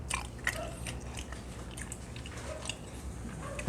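Someone chews crunchy yet chewy soup offal close to the mic, soft rhythmic bites and moist crunches repeating steadily at low volume over a faint background hum.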